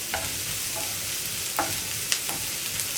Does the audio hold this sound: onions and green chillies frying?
yes